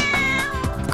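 A cartoon cat in an animated children's story lets out a loud, close meow that stretches across the moment, with a second wavering cry following, heard alone with no speech.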